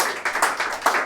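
A few people clap for a show's cast and crew, with several distinct close hand claps, sparse and uneven, over about a second.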